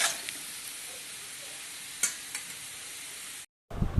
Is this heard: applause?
no